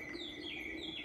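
The nightingale bird-whistle stop of the church organ in the Hervormde kerk at Zeerijp, Netherlands, giving a short, faint, bubbling warble of high whistled tones.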